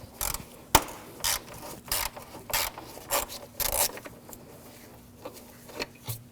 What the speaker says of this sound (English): Now using a T25 socket, we're going to take this screw out.